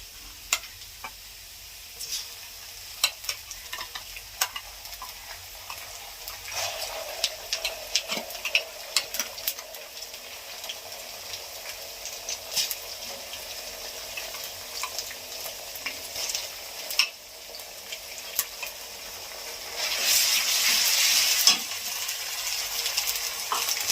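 Ginger, coriander and cumin paste frying in a pan for a bhetki fish-bone chorchori, giving a steady sizzle with scattered stirring clicks and ticks that swells louder near the end.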